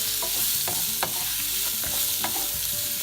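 Raw, slightly ripe mango pieces are stirred into roasted spices in a hot pan. A quiet, steady sizzle runs throughout, broken by soft scraping strokes of the spoon at an uneven rhythm.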